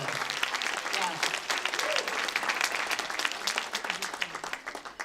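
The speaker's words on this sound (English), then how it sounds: "let's start off with a round of applause for you guys, the Chagrin Valley Chamber of Commerce local businesses" An audience claps for local businesses at a Chagrin Valley Chamber of Commerce event, dense sustained applause from many hands that stays strong and tails off slightly at the end, with voices mixed in.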